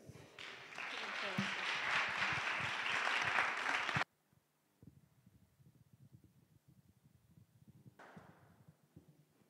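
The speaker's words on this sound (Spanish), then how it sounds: "lo que pido es un fuerte aplauso para ella." An audience applauds a speaker at a talk in a music conservatory, with loud, dense clapping for about four seconds that stops abruptly, then a quiet room with faint shuffling.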